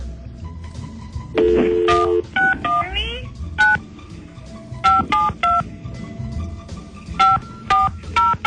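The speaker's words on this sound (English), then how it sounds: "let's dial him up" Telephone keypad tones dial out in a quick series of short, clear beeps, with a few longer tones in between, while people talk in the background.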